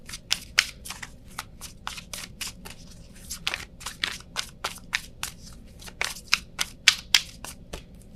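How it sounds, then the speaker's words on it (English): Tarot cards are shuffled by hand in quick, crisp riffling bursts, close and moderately loud, repeating steadily with short pauses between bursts. "Why is the Seven of Swords and the Seven of Cups coming out?"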